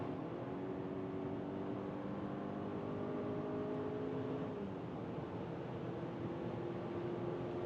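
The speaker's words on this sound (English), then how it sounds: "Here now at 130 kilometers an hour, let's accelerate even further" A BMW X3 SUV's cabin fills with a steady low engine and road drone as it accelerates beyond 130 km/h, a faint rising tone sliding up through the even, muffled highway rumble.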